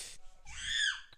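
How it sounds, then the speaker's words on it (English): A person screams in a short, high, strained burst that swells and fades within about a second, heard alone over a quiet background. "Don't mind my cousin screaming."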